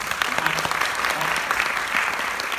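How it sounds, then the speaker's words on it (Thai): Dense, steady applause from a seminar audience at an AIA insurance training lecture, a close, continuous wash of many hands clapping that holds at an even loudness for the whole stretch. "ปรบมือให้4ข้อนี้นะ"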